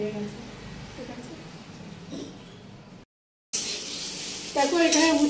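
Bitter gourd and potatoes fry in a pan, a soft continuous sizzle with a brief dropout, then a louder, brighter burst of frying and stirring toward the end; a voice talks over parts of it.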